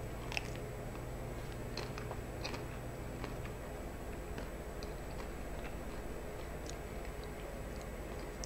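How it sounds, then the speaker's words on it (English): Bites and chewing on a Breyers triple chocolate chip ice cream bar come as faint, close crunchy clicks and soft mastication over a steady low hum. "Let me take one more bite."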